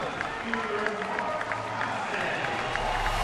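A home crowd at a San Diego baseball game stands and applauds, a dense continuous roar of clapping and cheering heard under a broadcaster's talk.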